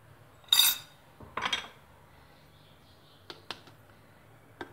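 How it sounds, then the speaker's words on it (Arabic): Dry ingredients for Moroccan ghriba cookies with cocoa and coconut being stirred in a bowl, heard as two brief bursts of clinking and scraping followed by a few faint, sparse taps, with no talking. "غادي نبدا نخلط ان شاء الله هاد النواشف كاملين"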